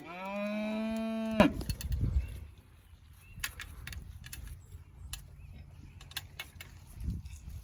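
A calf on a cattle farm gives one long, loud moo at tagging time. Scattered clicks and clanks follow over quiet farmyard ambience, and a faint low call comes near the end.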